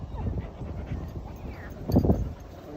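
A puppy at a dog park whimpers and pants in short, close bursts, a quick yelping cluster near the end, with a person speaking softly nearby.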